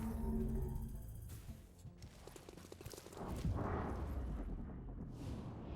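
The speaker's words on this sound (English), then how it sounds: "Throwing grenade." A thrown grenade detonates in the video game XCOM Chimera Squad: a single heavy, broadband blast roughly midway through, rumbling out over continuous game ambience and clatter.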